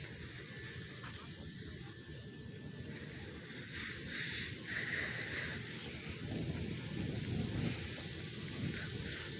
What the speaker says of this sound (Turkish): Şu an size rüzgar sesi çok geliyor bilmiyorum ama burası bayağı rüzgarlı